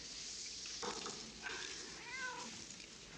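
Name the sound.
cat meowing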